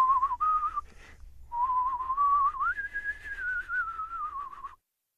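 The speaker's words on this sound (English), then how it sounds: "I'm just going to whistle" A person whistles a wandering melody, clear and close, with a brief pause early on before the tune carries on and ends abruptly.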